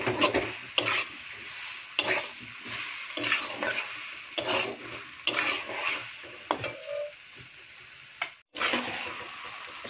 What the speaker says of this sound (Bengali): অল্প জল দিয়ে এটাকে ভালো করে কষিয়ে নিই।